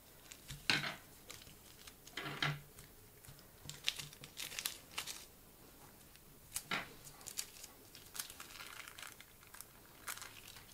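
Scissors cutting through three stacked paper circles clipped together for a Christmas stained-glass ornament craft, giving close, quiet, irregular snips and crinkles with brief paper rustling between cuts.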